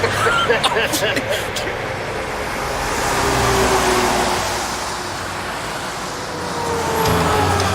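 A semi truck pulling a trailer rolls slowly through a truck drive-through at a tire shop, its engine rumble and road noise swelling and easing under nearby talk.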